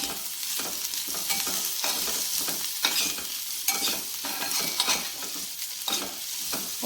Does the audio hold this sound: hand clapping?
no